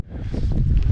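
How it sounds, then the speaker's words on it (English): Wind blowing across the Continental Divide in Montana in winter, a steady low roar buffeting the microphone and building to a constant gusty rush through the short stretch. "The Continental Divide is synonymous to wind, and windy it is."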